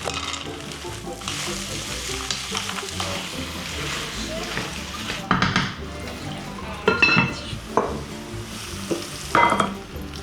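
Food sizzles steadily in a frying pan at home, a continuous crackling hiss with a few louder spatters and bursts of stirring in the second half, no voices.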